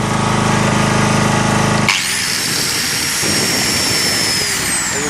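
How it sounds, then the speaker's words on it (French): Propane-fuelled generator drones loudly and evenly, then an angle grinder it powers cuts in with a high, thin whine that holds and slowly sags in pitch over a rougher mechanical rumble. "On va y mettre une meuleuse toute simple."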